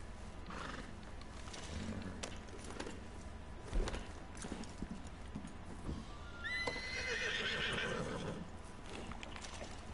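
A horse in Red Dead Redemption 2 Online whinnies and neighs amid clip-clopping hooves and small thuds, with one louder, drawn-out neigh near the end.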